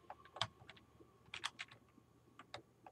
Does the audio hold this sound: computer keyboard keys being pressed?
yes